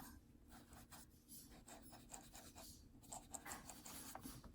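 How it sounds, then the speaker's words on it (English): A pencil scrubs with a light touch across squeaky watercolor paper, a steady, close, quiet rasping and rubbing with repeated short strokes throughout, no voices. "paper gives a nice squeaky sound"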